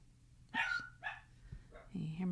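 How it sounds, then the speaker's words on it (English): A pet dog barks indoors at a distance, a few faint separate barks with whimpery tones, heard quietly against a low background hum while a person speaks nearby. "Can you hear my dog barking?"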